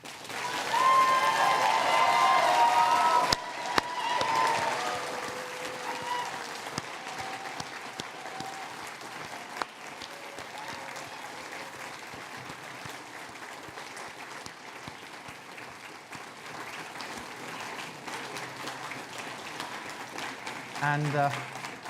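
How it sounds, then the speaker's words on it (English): Sustained audience applause at a graduation ceremony, steady clapping from a crowd, loudest at first then continuing evenly for the full stretch with faint voices underneath. "give one final big round of applause to our successful graduates"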